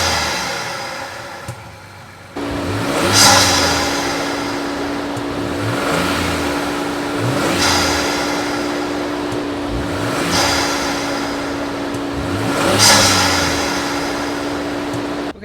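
Truck engine fitted with an S&B cold air intake, recorded outside near the front: a steady loud idle with several repeated revs rising and falling at roughly even intervals.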